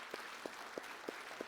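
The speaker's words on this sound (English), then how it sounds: "Can we give them a round of applause?" Faint applause for the candidates at a candidate forum, heard as a distant, thin patter with a few louder, evenly spaced claps standing out close by.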